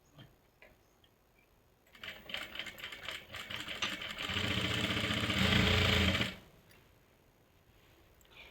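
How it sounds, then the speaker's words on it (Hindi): An electric sewing machine stitches salwar fabric pieces, starting with faint ticking and then running up into a steady, louder whir for a few seconds before stopping abruptly. "अब यहाँ से सिलाई लगा लेंगे"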